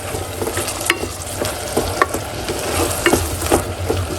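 Mackerel and sweet potato fry in a pan and are stirred up, a close, continuous sizzle with repeated scraping and clacking of the utensil against the pan and no talking.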